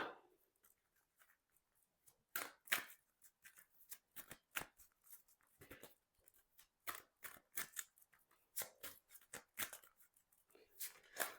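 Tarot cards shuffled close by in quiet surroundings, a series of crisp, irregular riffling and slapping bursts with short pauses between them and no talk.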